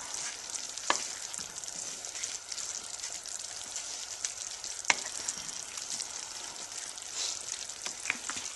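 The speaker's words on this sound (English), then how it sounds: "Now I'm going to go ahead and put the browned desiccated coconut in here. Alright, we'll mix that as well." Beef and browned desiccated coconut sizzle and fry in a pan for a beef rendang, a soft steady crackle broken by occasional scraping clicks as the mixture is stirred.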